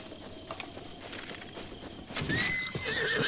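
A horse in Zelda: Breath of the Wild neighs and whinnies with clip-clopping hooves close by, a bright whinny rising loud in the second half over steady game ambience.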